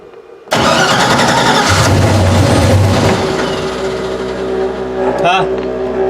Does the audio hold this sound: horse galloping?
no